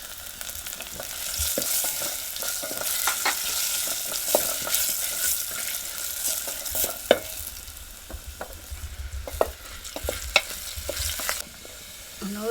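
Garlic cloves and bay leaf sizzle steadily in hot oil for a toor dal tadka, a continuous frying hiss broken by a few sharp spattering pops and spoon stirs, close and moderately loud with no talking.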